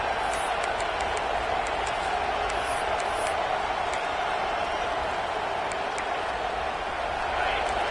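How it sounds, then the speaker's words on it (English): Football stadium crowd at a Texas A&M vs Kansas game, a broad, steady roar of distant voices and cheering filling the background while a commentator talks over it. "This crowd bringing the energy and noise early."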